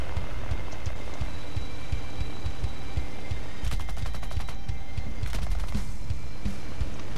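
Aircraft machine guns in War Thunder, on a P-61, fire in several short, rapid bursts over a steady engine drone; the rattling fire is loud and close.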